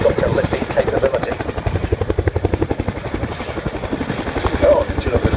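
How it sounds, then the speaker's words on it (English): A Royal Air Force Boeing H-47 Chinook flies at the ILA Berlin air show with a loud, rhythmic rotor thump that stays steady and close throughout, and a voice speaks over it. "Very impressive display of helicopter lifting capability."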